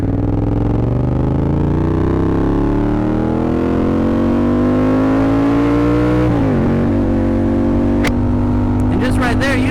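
A Yamaha FZ07 motorcycle engine pulls hard and loud at close range, its pitch climbing steadily, dipping briefly at a gear change, then rising again as wind noise builds toward the end.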